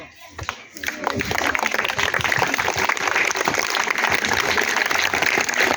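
An audience of students clapping at a classroom quiz after the scores are announced, a dense, steady patter of applause that continues throughout with voices mixed in.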